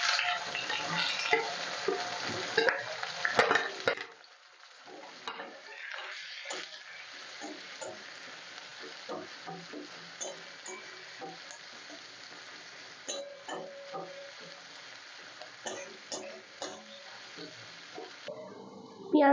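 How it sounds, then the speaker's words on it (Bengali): Chopped onions sizzle and fry in a pan with cardamom for a chicken kosha, with a loud stirring burst at the start, then quieter steady frying punctuated by light clinks and scrapes. "এবার দিয়ে দিচ্ছি 3টে বড় সাইজের পেঁয়াজ কুচি।"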